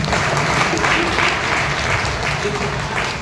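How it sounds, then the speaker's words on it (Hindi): Loud, steady applause from an audience at a business success-story talk fills the whole stretch, dense clapping with no pause. "एक बार जोरदार ताली होना चाहिए।"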